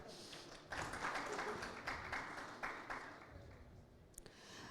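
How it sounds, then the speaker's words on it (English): A conference audience at an executive session on green aircraft maintenance breaks into applause after a brief pause, a moderate patter of many hands that fades gradually, with a sharp tap near the end. "A round of applause."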